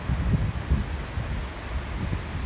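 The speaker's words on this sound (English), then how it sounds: "It's a sunny but windy day" Wind buffets the microphone in low, gusty rumbles, rising and falling irregularly with no voices present.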